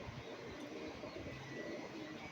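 A domestic pigeon of the high-flying Lal Dom type coos softly in a loft, its faint low coo surfacing briefly over a steady background hum.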